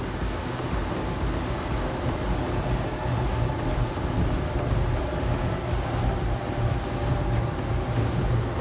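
A Honda L4 150 outboard engine runs steadily on a boat at speed, a loud continuous drone mixed with wind buffeting and rushing water and waves, with no talking.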